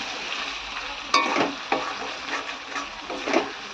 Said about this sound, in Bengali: তো মাংসটা এখন কষবো।